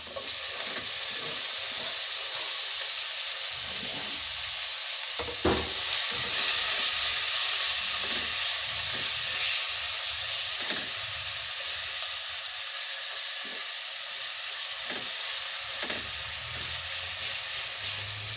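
Tomatoes and softened onions sizzle steadily in a hot pan, a loud continuous frying hiss with scattered pops and occasional scraping stirs, heard up close without talk.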